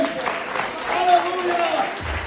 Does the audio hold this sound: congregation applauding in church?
yes